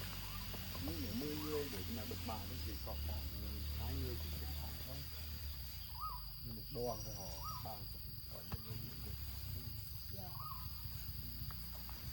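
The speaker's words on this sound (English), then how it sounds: "The sounds of the bird" Several short, rising bird chirps repeat in bursts against a constant insect-like drone, with people talking quietly in between.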